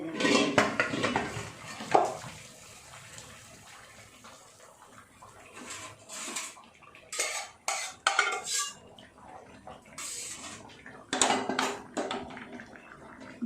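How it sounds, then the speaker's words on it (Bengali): Boiled taro leaves tipped from an opened pressure cooker into a strainer, with repeated clattering bursts of metal pots and utensils and splashing water as the greens drain, loud and close with no talking. "ঢেলে দেব জলটা ঝরানোর জন্য।"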